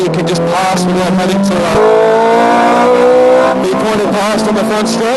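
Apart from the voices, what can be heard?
Ferrari F430 Scuderia driving on race track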